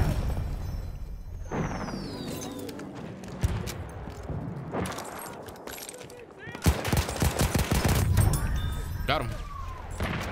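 Machine gun fire in the Battlefield 1 shooter game, with bursts of shots scattered through a busy battlefield mix, a heavy rapid volley late on, and game voices speaking over the action.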